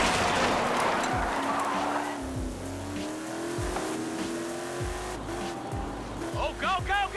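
Trophy truck in the racing game Forza Horizon 5, its engine revving and shifting up through the gears, with tire squeal toward the end and voices talking over it.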